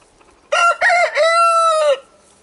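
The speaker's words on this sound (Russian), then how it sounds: "кукареку показывает, что он тут главный. Поет на все стороны." A rooster crows once nearby, a loud, clear cock-a-doodle-doo lasting about a second and a half, standing alone over quiet background.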